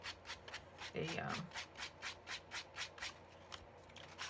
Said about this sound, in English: sanding sponge.